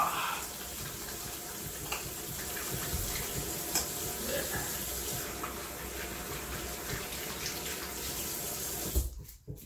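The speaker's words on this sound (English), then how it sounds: "Forgot to wash my hands." Tap water running steadily into a sink while hands are washed, a close, continuous hiss and splash that cuts off abruptly near the end.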